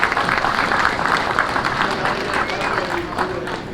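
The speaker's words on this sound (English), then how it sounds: "Let's give him a round of applause." A crowd applauds steadily at a college football game's veterans salute, a dense wash of clapping filling the room without pause.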